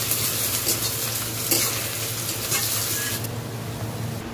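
Onions with bay leaf and green chilli fry in a village kitchen pan, giving a steady close sizzle with occasional stirring scrapes and no talking.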